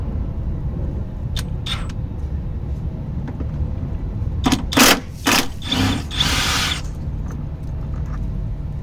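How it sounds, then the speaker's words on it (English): A SeeSii WH750 cordless impact wrench breaks loose the top bolt of a car shock absorber, giving several short loud rattling bursts in quick succession near the mic over a steady low background hum. "you've seen me do a few jobs there with the SeeSii Impact Wrench"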